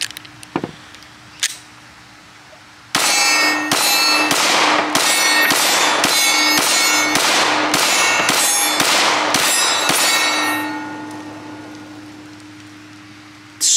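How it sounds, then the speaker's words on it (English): Gunshots at an outdoor shooting range, with a couple of isolated bangs and then a rapid string of about a dozen sharp, loud reports fired in close succession, followed by a quieter tail and no talking. "It's time to shut up and shoot."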